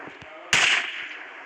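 A single sharp sniper rifle shot cracks out in a zombie video game, loud and close, followed by a short fading tail.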